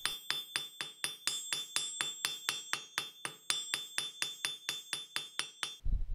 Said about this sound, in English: The tip of the tongue is also given a slight angle and is flattened out on the edge of the anvil.